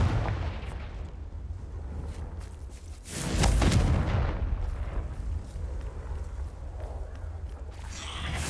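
In the Hogwarts Legacy video game, a Confringo blasting spell lets off a loud explosive boom in the middle, followed by rumbling over a low ambient hum.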